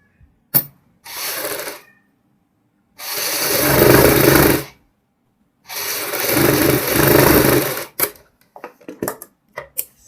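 A sewing machine stitches a double collar on a kurti in several loud, close bursts of whirring motor and needle clatter, separated by short pauses and ending in quick stop-start taps.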